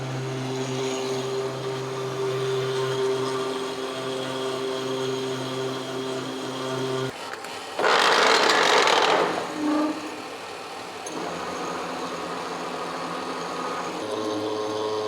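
A milling machine cuts a new cross feed screw for a Lion lathe at 1.25 inches per minute, a steady machine hum and drone broken by one loud, harsh cutting burst of about two seconds midway.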